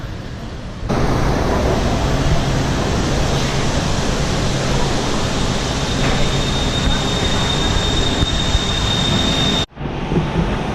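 Steady broadband rumble of a train idling at a platform, loud and continuous, cutting off abruptly near the end before a quieter ambience.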